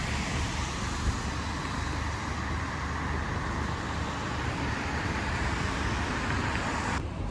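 A route 180 bus pulls away from Abbey Wood Station amid steady roadway traffic, its engine a continuous broadband rumble that stays fairly loud and even throughout, with no talking.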